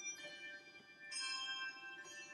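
Quiet recorded music of Carol of the Bells, with bright, ringing bell-like tones layered over a steady low backdrop, swelling slightly louder partway through.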